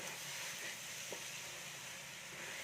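Raw ration rice roasting in a pan: a soft, steady sizzle and faint grainy stirring scrapes, quiet and continuous with no voices.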